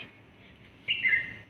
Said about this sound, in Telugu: తెల్లవారుజామున పక్షులు భలే సౌండ్ చేస్తాయి అసలు